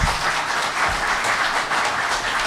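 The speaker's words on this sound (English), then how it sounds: "Let's give them all a round of applause." Conference audience applauding a panel at an elections event, steady dense clapping from a large crowd filling the room, loud and continuous without a break.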